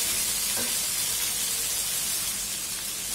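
Spices hit a hot pan of oil in a Bengali home kitchen, giving a steady, loud sizzling hiss that runs without a break, with a faint clink early on.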